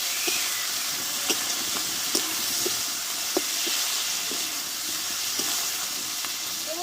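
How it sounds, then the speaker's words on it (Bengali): Chopped green chilli and tomato frying together with crushed ginger and garlic in a pan, a dense even hiss of sizzling oil with soft scattered ticks and pops, close and steady, no speech. "আর দেবো কাঁচা লঙ্কা কুচনো আর দেবো টমেটো একসঙ্গে একটু কষে নেবো সবগুলো"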